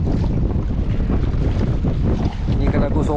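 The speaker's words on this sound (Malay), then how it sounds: "Angin memang kuat eh." Strong wind at sea buffeting the microphone of someone fishing from a kayak, a loud continuous roar and rumble with no letup, ahead of a coming storm.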